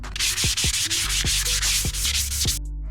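Hand sanding of a Bassani exhaust pipe with 600 grit sandpaper gives loud, close, rhythmic rubbing strokes, about a dozen back-and-forth passes before stopping abruptly.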